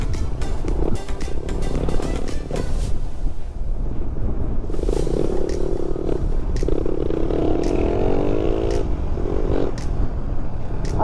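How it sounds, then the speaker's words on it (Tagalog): A Suzuki Raider R150 motorcycle fitted with an Apido power pipe exhaust rumbles loudly close by during a test ride, its engine note rising and settling with throttle changes amid wind and road noise. "Ayos naman yung tunog ng Apido"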